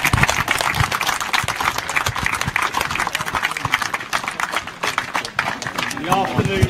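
Crowd applause for George Dunn at an outdoor VE and Liberation Day 75th anniversary weekend celebration, dense sustained clapping with scattered voices mixed through it throughout.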